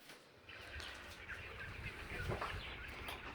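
Chickens on a poultry farm, just let outside to feed, cluck and squawk softly in a scattered chorus, with some wing flapping and faint background activity.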